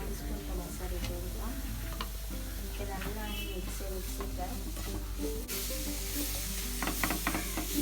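Grated carrots and sugar being stirred and fried in a pan for carrot pola, a steady sizzle with repeated scraping and clicking of the spoon, while a person talks over it.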